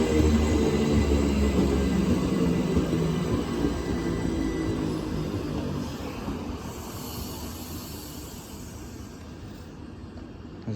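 Class 357 electric trains at Barking station, a loud low rumble that fades slowly as the train pulls away, with no voices.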